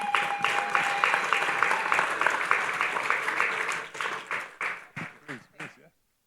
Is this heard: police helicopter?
no